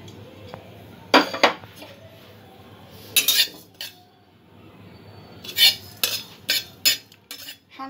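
Cumin seeds dry roasting in a pan for chicken ghugni, with several sharp clinks and scrapes of a spoon against the pan at intervals over a faint steady background, close and fairly loud.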